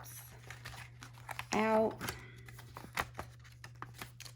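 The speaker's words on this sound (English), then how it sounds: "I'm going to take my empty envelopes" Paper cash envelopes rustle and crinkle as they are handled, with one louder crumpling burst in the middle, close up. A person speaks briefly.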